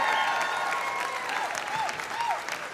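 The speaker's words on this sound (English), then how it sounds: "Give him a big round of applause." An audience at a comedy fundraiser show claps for a departing comedian, a steady wave of applause that gradually eases, with faint voices calling out over it.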